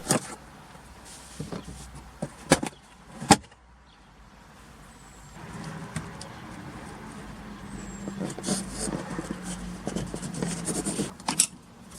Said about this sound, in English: Remove the A-pillar trim. Just pull. There are no screws.